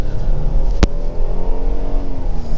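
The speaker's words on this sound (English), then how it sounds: "Nice engine note for from the V6." Hyundai Palisade V6 engine accelerating on local roads, a steady close engine drone with rising tonal harmonics and one sharp click partway through, no talking.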